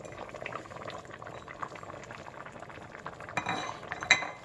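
A pot of Ghanaian Fante Fante fish stew simmers, giving soft bubbling and burbling at close range, fairly quiet, with a few light clinks of metal near the end.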